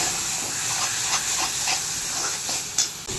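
Tomato paste sautéing in a pan for a beef pepper gravy, a steady close hiss and sizzle with faint scraping stirs and one brief clatter near the end.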